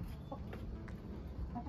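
Pet hens with fluffy feathered feet cluck softly in short, scattered calls over a low background rumble, fairly quiet and close by.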